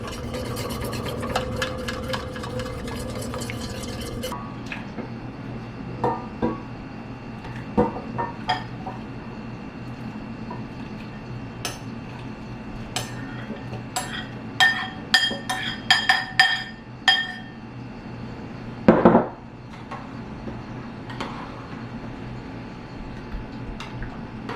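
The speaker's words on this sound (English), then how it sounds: "Whisk, whisk, whisk." A whisk scrapes and clinks against a pot of beef gravy made from beef bones, with quick bursts of metallic tapping, scattered clinks between them, and a low steady hum underneath.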